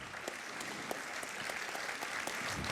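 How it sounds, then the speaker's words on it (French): Event audience in a hall applauding, with sustained, even clapping from a sizeable crowd that holds steady at a fairly loud level throughout. "je vous demande encore de les applaudir, s'il vous plaît,"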